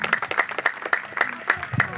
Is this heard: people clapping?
yes